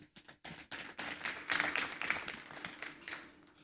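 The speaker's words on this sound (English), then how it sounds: "We're not done with the applause yet." Audience applause at the JoyNews Impact Makers Awards ceremony in Ghana, a steady wash of many hands clapping that swells in the middle and fades in uneven bursts, fairly distant in a large hall.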